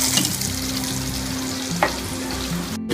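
Okra and coconut frying and being stirred in a pan, with a steady close sizzle under scraping stirring strokes and a sharp clink near the end.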